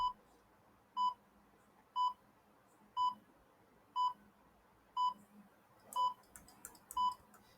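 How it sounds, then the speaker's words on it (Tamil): A timer being started gives a row of eight evenly spaced electronic beeps, one per second, clear and moderately quiet against a faint background hiss. "ஓகே டைமர் ஸ்டார்ட் பண்ணிடலாம்"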